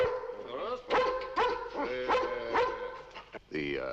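A dog barks several times in a row, sharp near yelps spaced about half a second apart, followed by a brief whimpering whine at the end.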